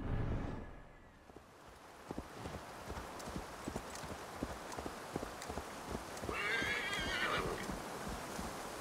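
Steady hoofbeats of a galloping horse in the video game Assassin's Creed Valhalla thud in rhythm, and a whinny rises near the end, with no talking.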